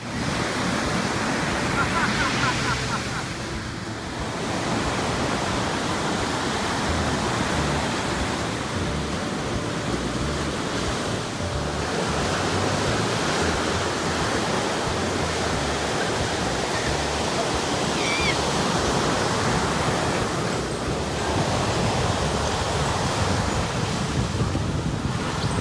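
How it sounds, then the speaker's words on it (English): Surf at Kealia Beach on the east shore of Kauai, a steady broadband wash of breaking waves with wind buffeting the microphone, swelling and easing over roughly half a minute with no voices. "I'd highly recommend Kealia Beach on the east shore of Kauai."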